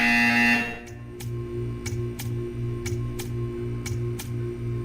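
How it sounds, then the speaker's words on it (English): A video game buzzer from Portal 2 starts with a loud tone, then a steady low buzzing pulses in even on-off beats, each pulse marked by a sharp tick, continuing alone without speech. "You will hear a buzzer."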